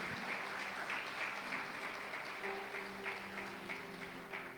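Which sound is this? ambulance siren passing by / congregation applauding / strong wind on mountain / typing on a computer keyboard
congregation applauding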